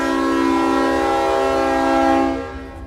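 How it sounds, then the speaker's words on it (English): A train horn sounds loud and sustained in one long, rich multi-tone blast that holds steady for over two seconds, then fades. "Listen to that horn."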